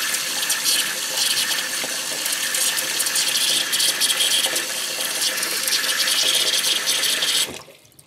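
Running water close by, with a waterproof metal-detecting pinpointer held under the flow in a sink; a steady broadband splash continues for about seven seconds, then cuts off abruptly.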